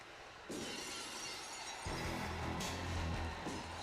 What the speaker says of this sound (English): When you hear the glass, that's your ass.